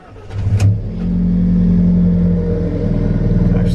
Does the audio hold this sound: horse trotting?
no